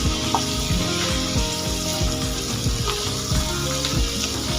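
Vegetables lightly frying in a pan for Bengali bhoger khichuri give a dense, continuous close sizzle, with rhythmic spatula scrapes and stirring knocks and no talking.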